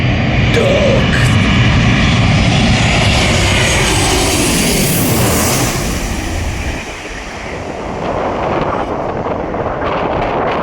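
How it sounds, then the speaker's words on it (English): An airplane comes in to land on the runway at Skiathos airport, a loud, sustained engine roar sweeping overhead at close range with heavy wind buffeting, then easing off while the sea sounds in the background. "I'm at the end of the runway watching the planes come in."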